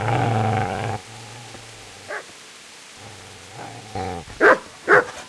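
A dog growls and barks in Kingdom Come: Deliverance, opening with a long, deep, close growl, then softer low rumbles and a few short yips, ending in two loud, sharp barks.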